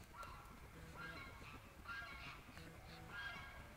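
Chickens in a coop cackle and honk-like squawk over one another, a dense, fairly quiet jumble of overlapping bird calls with low rustling beneath.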